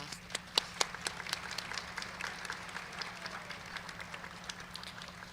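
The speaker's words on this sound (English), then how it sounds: "So if we could go ahead and give them an applause." Audience at a college nursing pinning ceremony applauds guests, moderate crowd clapping with distinct sharp claps early that blur into a softer, even patter, heard from some distance over a low steady hum.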